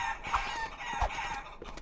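A rooster in a video game crows and clucks in short bursts against a busy, noisy game soundtrack, fairly faint and with no talking.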